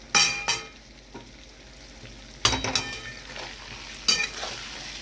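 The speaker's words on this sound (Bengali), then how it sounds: "ভাজা হয়ে গেছে, এখানে এই মশলাটা দেবো।" Fried pointed gourd in a pan with spices going in: a quiet frying hiss broken by several sharp clinks and scrapes of a utensil against the pan.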